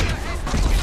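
Burst of GTA V Online gunfire during a police fight on PS4, a short loud volley of overlapping shots with continuous rumbling under talking voices.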